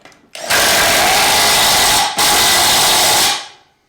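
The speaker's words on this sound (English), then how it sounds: "grab our impact and wind that in" An impact driver winds in the bolt holding the cutting disc on a Victa two-stroke lawn mower, two loud sustained bursts of whirring and hammering with a brief break between them, close and alone.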